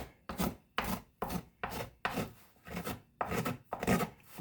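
A gouge and small hand planes pare down a wooden top plate to final thickness, giving eight rhythmic rasping strokes, each a short scraping burst separated by brief pauses, close and clear with no talking.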